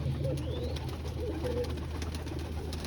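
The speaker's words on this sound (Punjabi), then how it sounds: "ਬਹੁਤ ਚੰਗਾ ਕਬੂਤਰ ਹੈ" Pigeons coo softly within a steady low background rumble at a pigeon market, with no voices heard.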